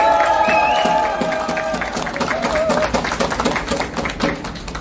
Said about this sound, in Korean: 여러분 우리 최대형 목사님 힘내시라고 박수 한번 쳐주십시오.